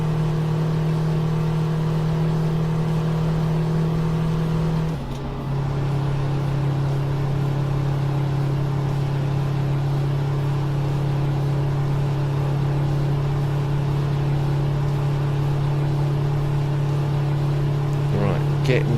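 A Kenworth 521 truck engine in American Truck Simulator hums and drones steadily, dipping briefly before settling into a constant low rumble near 2,000 RPM, with no talking over it.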